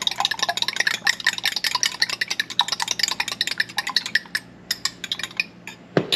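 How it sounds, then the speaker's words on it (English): Two eggs being whisked in a pan, a quick, fairly faint run of clinking strokes that thins to a few scattered taps near the end. "Then our next addition is 2 eggs. We're gonna beat those up."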